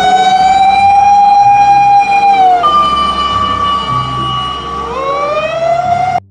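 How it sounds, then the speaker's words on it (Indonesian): A toy fire rescue ladder truck blares a loud electronic siren right up close, holding one wailing tone, jumping to a higher pitch midway, then sliding back down before it cuts off abruptly. "ini truk tangga penyelamat"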